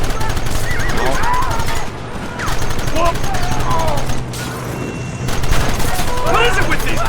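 Rapid, dense gunfire from a Red Dead Redemption shootout rattles almost continuously at close range, with a brief lull midway and shouting game voices over the volleys.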